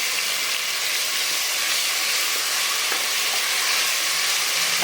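Green chilli and ginger garlic paste sautéing in a pan for mint pulao, giving a steady, close sizzle with broad hissing that holds evenly throughout, with faint stirring scrapes and no voices.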